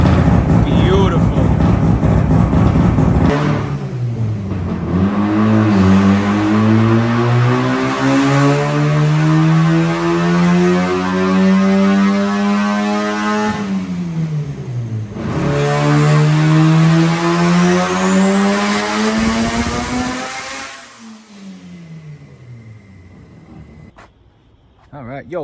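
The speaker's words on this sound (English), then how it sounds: "Now I gotta watch this RX-7 get dynoed" Mazda RX-7 rotary engine revving on a dyno, a loud, sustained high-pitched wail climbing steadily through long pulls, a brief drop and a second rise, then cutting off near the end; near and dominant, with no speech over it.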